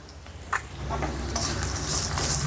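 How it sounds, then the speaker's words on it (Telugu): Green chillies and garlic cloves frying in a pan on low flame for cumin rice, a soft continuous sizzle with light stirring scrapes that build slightly louder toward the end, without talk. "ఇప్పుడు వీటన్నిటిని ఒక నిమిషం పాటు ఫ్రై చేసుకుందాం"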